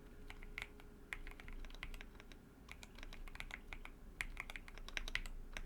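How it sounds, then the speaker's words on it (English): Heavy typing on a TOFU65 keyboard fitted with Everglide Aqua King v3 switches on 67g springs, a steady stream of close, crisp keystroke clacks at an irregular rhythm, with no voices. "with the heavy typing and"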